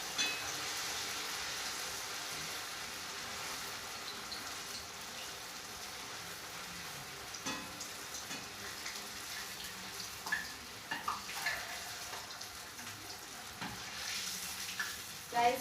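Potatoes for viazi karai fry in hot oil in a pot, a steady faint hiss and sizzle with occasional small pops and clinks near the end.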